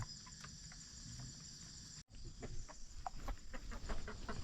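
Chickens brought along on an outing cluck faintly in the background amid a steady insect or cricket drone, with soft scattered sounds and a brief dropout midway.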